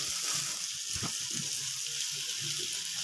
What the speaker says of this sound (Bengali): এই যে আলুর সঙ্গে একটু ভেজে নেবো